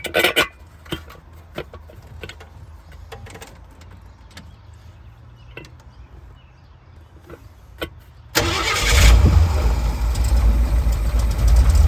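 A Ford 5.0 small-block V8 that has sat for a couple of days, with ignition timing set retarded, cranks through a quiet stretch of clicks and then catches, roaring into a loud, steady close-up idle.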